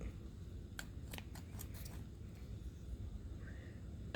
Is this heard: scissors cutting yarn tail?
yes